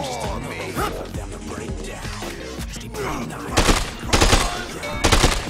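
Sharp bursts of gunfire crack in quick clusters toward the end, loud and close, following a stretch of muffled thumps and movement with little speech.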